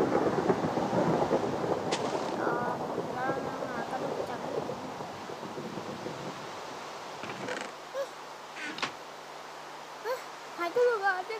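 Minecraft Pocket Edition rain and thunder give a heavy wash of rainfall and rumbling that fades after several seconds into quieter game sounds, with talking throughout.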